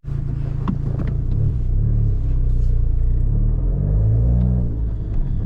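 An Abarth 595 pulls away from a standstill, its engine rumbling low and steady as the car moves off, close and loud with no talking.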